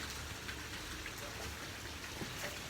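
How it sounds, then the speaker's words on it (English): Heavy rain pours steadily in Colorado, a dense even hiss with gutters overflowing and spilling water, with no talk over it. "today it is very rainy"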